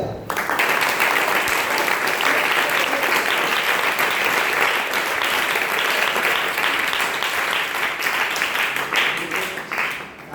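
A sustained round of vigorous applause fills a hall during a Jain religious discourse on Uttam Satya Dharma in Songadh. Many hands clap steadily and loudly for about ten seconds before tapering off at the end.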